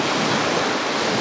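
Sea surf washing onto the beach at Anapa on an overcast day, a steady broadband wash with wind noise on the microphone, unbroken and without voices.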